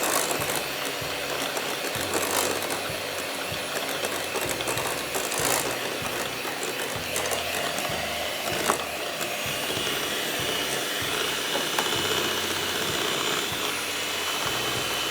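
Eggs and sugar are beaten together for egg biscuits, most likely with an electric mixer, producing a loud, continuous mechanical whir with rattling, close and steady throughout.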